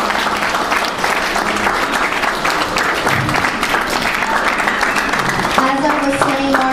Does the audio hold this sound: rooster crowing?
no